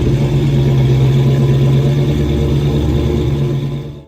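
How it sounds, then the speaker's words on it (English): A Ford 302 Windsor V8 muscle car engine holds a loud, steady, deep rumble close by, then fades away at the end. "From the iconic roar of the Ford 302 Windsor"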